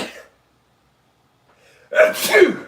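One sharp, loud sneeze bursts out near the end after a brief breath at the start and near silence between, close to the microphone.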